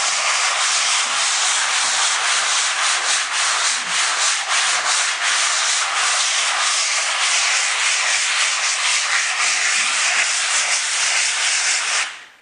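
Steady, close hand sanding of a wall with 220-grit sandpaper during finishing prep before painting, a continuous dry rasping rub with quick repeated strokes that runs unbroken for about twelve seconds and then stops.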